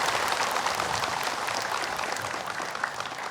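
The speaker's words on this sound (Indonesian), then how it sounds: "Boleh tepuk tangan." Studio audience applause at a televised religious talk show, a dense steady patter of many hands clapping throughout, fairly loud and close with no voices over it.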